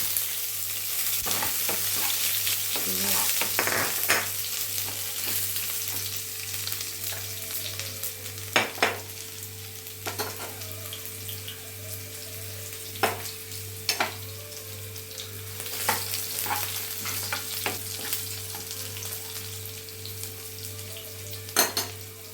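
Shallots frying with popping mustard seeds in coconut oil for a moru curry, a steady close sizzle with intermittent clinks and scrapes of a utensil stirring the pan over a low background hum, no voices.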